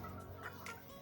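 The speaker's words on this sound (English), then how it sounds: "this is the red rooster I'm referring to" A red rooster kept on a small chicken farm gives a brief, faint clucking call over a low background hum, lasting about a second.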